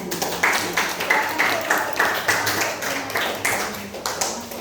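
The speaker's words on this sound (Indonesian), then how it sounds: "Beri tepuk tangan untuk kelompok 1." A primary school class claps in a steady burst of applause lasting several seconds, fairly close and uneven, with no talking over it.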